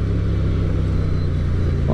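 A Hyosung GT250 motorcycle with a modified exhaust runs close by, giving a steady, throaty engine hum that holds a fairly even pitch throughout.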